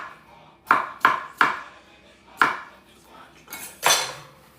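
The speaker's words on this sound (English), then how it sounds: "Now the shrimp we're going to cut a little bit too." A knife cuts shrimp on a board in six or seven sharp, separate chops with short pauses between them, close and fairly quiet, with no talk.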